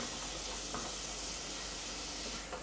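Bacon sizzling as it cooks in a pan, a steady close hiss and crackle that carries evenly throughout.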